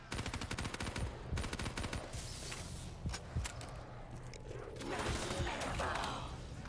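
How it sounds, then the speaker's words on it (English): Rapid bursts of gunfire from Dingo and HVK weapons in Black Ops 3 Zombies, firing in dense automatic volleys with short gaps, then a steadier rushing noise toward the end. "it's kind of obvious because I'm shooting regular bullets"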